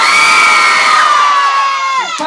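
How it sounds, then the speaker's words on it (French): A concert crowd cheers and shouts loudly, with high-pitched children's voices and whoops in a sustained roar that briefly falls away near the end. "vous faisiez plus de bruit pour Zaki"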